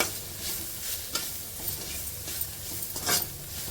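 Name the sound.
stirring garam masala into frying mixture in pan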